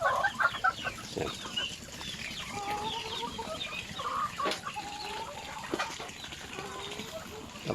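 Chickens and young stag roosters in a Filipino backyard pen cluck and chatter in scattered bursts near and far, with someone talking over them.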